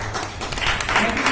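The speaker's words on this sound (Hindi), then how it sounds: "तालियां लगाए।" A seated audience at a business plan meeting breaks into brief applause, a dense wash of clapping with some voices mixed in.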